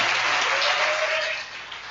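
Church congregation clapping together as an offering during a worship service, a dense, steady wash of applause that fades slightly toward the end.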